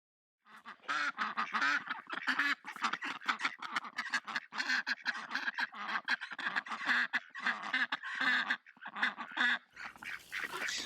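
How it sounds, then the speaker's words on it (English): A group of ducks on a pathway quack and honk in a dense, continuous chorus, with overlapping nasal calls close by for the whole stretch. "When this group of ducks came up the pathway and saw the camera in front of them, they turned around and retreated"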